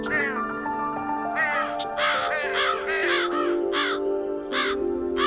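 Crows caw loudly and repeatedly nearby in a willow tree at dawn, harsh overlapping calls forming a noisy, continuous chorus.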